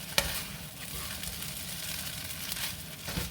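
Vegetable fried rice sizzles steadily in a hot pan while being stirred, a continuous crackling hiss with a sharp clink near the start and another near the end.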